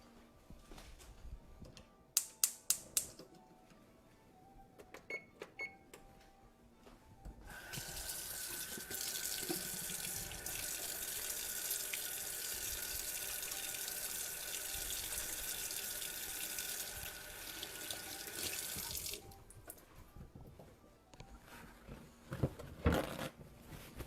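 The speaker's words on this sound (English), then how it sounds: "I'm going to go wash my hands" A kitchen tap runs for hand washing, a steady hiss of water lasting several seconds, bracketed by sharp clicks and handling knocks before and after, fairly quiet with no speech.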